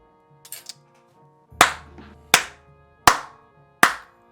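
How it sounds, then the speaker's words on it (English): Five sharp, separate claps ring out at roughly even intervals, each crisp and close with a short decay, preceded by a few softer faint taps in an otherwise quiet space. "but there's clapping happening"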